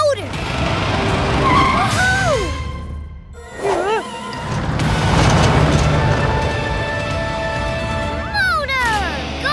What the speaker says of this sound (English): We have a motor!